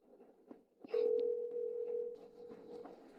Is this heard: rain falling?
no